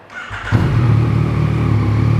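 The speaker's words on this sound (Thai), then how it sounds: "มาฟังเส ียงท่อคันนี้กัน" A 2017 Yamaha XSR900 motorcycle with a full-system aftermarket exhaust starts and settles into a loud, steady idle, a deep, even rumble close by with no talking.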